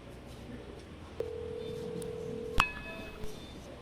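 Telephone dialing a call: a steady tone sounds, then a brief pair of sharp tonal beeps and a soft click, quiet with faint room noise and no voices.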